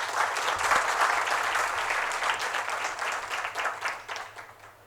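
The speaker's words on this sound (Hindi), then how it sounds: "जोरदार तालियां" An audience at a children's culture camp breaks into strong applause, dense steady clapping that swells early and fades toward the end, with no voices over it.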